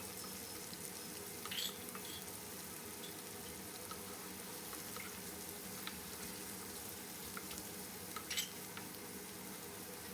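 Onions and green chilies fry in a pan with a steady low sizzle and occasional stirring clinks, close and moderately quiet, with no voices.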